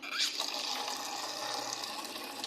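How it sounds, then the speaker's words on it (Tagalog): Water is poured gradually into a homemade dishwashing liquid mixture while it is stirred, giving a soft continuous splashing trickle, fairly faint, with no clear talk. "Unti-unti lang po lagyan ng tubig habang ang halo."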